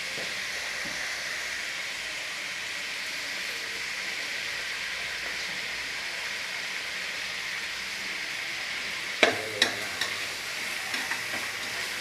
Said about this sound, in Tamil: சின்னதாக 4 தக்காளி பழம் கட் பண்ணி போட்டுக்கிட்டேன். அதுவும் இந்த பெரிய வெங்காயத்தோடய நல்லா வணக்கி விட்டுடலாம்.